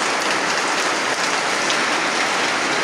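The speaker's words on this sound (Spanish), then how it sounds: "día lluvioso aquí en el campo, véanlo ahí" Steady, dense rain falls over open countryside on a wet morning, a continuous broadband hiss of drops pattering on surfaces, loud and even throughout with no voices.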